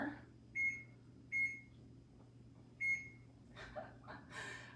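A kitchen timer in a cooking class beeps three times, short clear electronic tones spaced apart, followed by brief faint voices and rustling.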